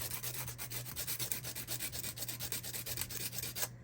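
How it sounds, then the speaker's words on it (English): Someone sands a small brass part by hand, producing a steady, rhythmic rasp of quick back-and-forth strokes close up over a low constant hum. "Go ahead and sand this part down."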